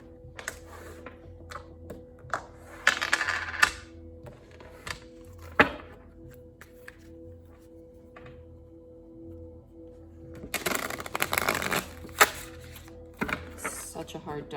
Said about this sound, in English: Such a hard deck to shuffle for me.